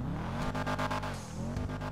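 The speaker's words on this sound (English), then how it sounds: "Yeah, engine sound." A Sultan Classic car engine in GTA 5 Online revs in quick, loud bursts, rising and dropping twice in a short span, with a synthetic, game-like tone.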